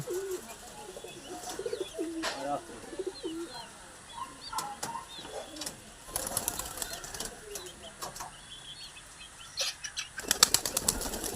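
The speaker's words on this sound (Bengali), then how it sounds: "পায়রা এখন ল্যান্ড করছে।" Pigeons released for flying come down to land at evening, with bird calls, soft cooing and bursts of wing flapping that grow denser and louder near the end, over outdoor background noise.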